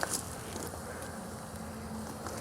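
Honey bees hum steadily around an open beehive during a pre-winter health inspection, a dense continuous drone close by with no talk over it.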